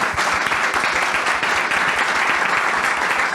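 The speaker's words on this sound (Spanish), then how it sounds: "Les pido un aplauso." Steady applause from an audience closing a panel discussion on artificial intelligence at an event in Uruguay, dense and continuous with no gaps, loud and filling the room throughout.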